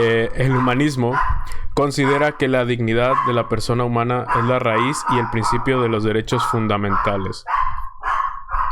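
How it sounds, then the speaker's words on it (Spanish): A dog barks and yips in the background of a room while a man lectures steadily, the barking partly buried under his voice. "Una disculpa por el perro de fondo."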